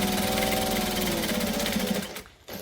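A sewing machine stitches a bag with buckle clips, backstitching at the start: a loud, fast, even run of stitches that stops abruptly near the end, then briefly picks up again.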